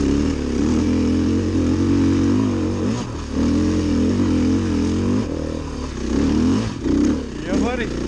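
A 2015 KTM 300 XCW or 450 XCW dirt bike rides off-road in second gear at Carnegie, its engine droning loudly and steadily with throttle swells and brief dips, and voices talk over it.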